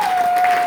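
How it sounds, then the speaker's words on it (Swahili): Church congregation applauding at a Kenyan testimony service, a brief burst of dense clapping filling the room, with a steady high tone running underneath. "Tumpigie Bwana Yesu makofi."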